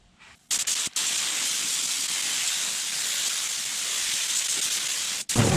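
Spray gun laying DBC coating onto a truck rocker panel, a steady close hiss of atomized spray running almost unbroken for about five seconds after a brief start-stop trigger pull.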